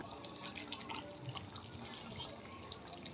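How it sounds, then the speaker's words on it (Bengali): Mutton stock simmers in a pot, a soft steady bubbling with small irregular pops and drips, quiet and close. "আমি এখন এটা ভালো করে ফুটিয়ে ঢাকা চাপা দিয়ে রান্নাটা করে"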